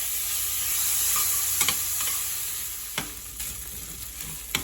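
Food sautés in a pan with a bright, steady sizzle and hiss, broken by a few sharp clicks and scrapes of a utensil stirring.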